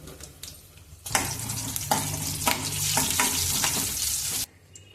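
Whole spices of fennel, cinnamon, cloves and cardamom crackle and sizzle in hot oil, a loud, dense frying hiss with sharp pops and stirring scrapes. It starts abruptly after a quiet second and cuts off near the end.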